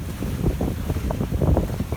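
Wind gusts buffet the microphone aboard a sailboat under way, with a steady low rumble of wind noise and a faint wash of water rising and falling around the hull.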